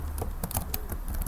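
Fingers tapping out code on a computer keyboard, a quick run of light clicks in an uneven rhythm, close and fairly quiet, with no voice.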